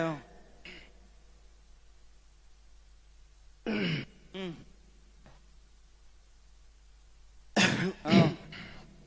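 A man clears his throat and coughs into a microphone on a stage at a Bihu comedy show, three separate short bursts separated by quiet pauses, close and clear.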